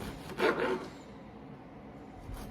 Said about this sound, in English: Make sure you use a serrated knife, and you're just gonna wanna carefully make 1-inch slices.